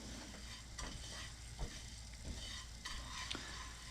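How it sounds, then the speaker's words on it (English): Breadcrumbs toast in a frying pan with a soft, quiet sizzle and occasional scraping stirs, close and faint with no voices. "use a frying pan to toast up some breadcrumbs"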